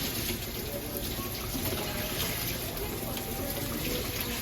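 Tap water runs steadily into a sink while a mop head is rinsed and slowly rotated at a gym, a constant loud close rush of splashing water.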